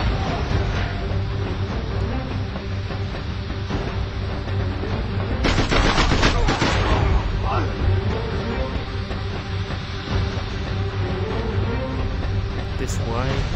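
An AK-47 fires inside the video game SpyHunter Nowhere To Run, heard as a dense burst of rapid automatic shots over constant game music and effects.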